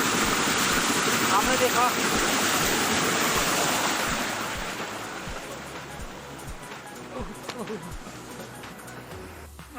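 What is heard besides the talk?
water stream turning a wooden watermill (gharat) in Uttarakhand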